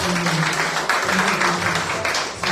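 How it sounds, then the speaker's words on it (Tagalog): A church congregation applauds in praise of the Lord during a Filipino service, a steady wash of clapping with a faint tonal hum and murmuring voices beneath. "At sa Panginoon po ang palakpak natin."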